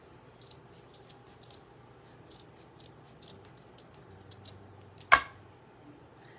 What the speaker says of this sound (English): we're gonna try to cut a circle